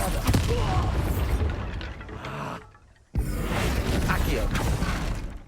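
Bombarda explosion spell in Hogwarts Legacy: a loud, continuous roar of blasts and debris, briefly dropping away near the middle before a fresh sharp impact bursts back in at full force.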